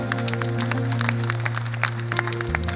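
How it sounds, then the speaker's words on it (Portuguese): A congregation claps steadily through a Sunday church service, the dense patter of hands running under sustained keyboard or organ chords that shift near the end. "salva de palmas"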